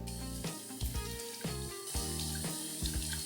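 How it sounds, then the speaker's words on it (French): Water runs from a tap and splashes against a face over a sink, a steady stream broken by several sharp, close splashes as hands bring water up, with no talking. "petit 1, on va passer de l'eau sur notre visage"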